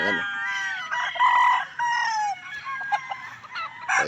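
Gamecock hens cluck and roosters crow close by at the Pandacaqui Gold Game Farm, several overlapping loud calls including drawn-out crows, with a voice speaking briefly underneath.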